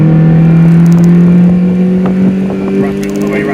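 A Mazda MX5 MK2 1.8 VS Edition engine holds a steady, loud drone with strong harmonics, climbing slowly toward the rev limiter.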